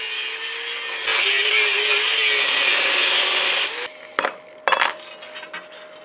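A power saw cuts through a marked section of material while building an electric agricultural cultivator, a steady whining buzz for a few seconds that stops, followed by a few clinks and knocks.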